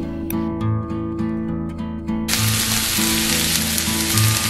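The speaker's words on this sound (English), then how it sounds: "continue to saute the onions till they become soft" Onions sauteing in a pan for a mutton curry, a steady close sizzle of frying with a loud burst of crackling partway through, continuing without any talk.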